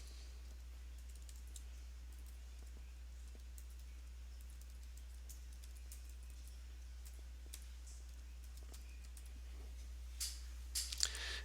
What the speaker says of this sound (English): So let me type an example.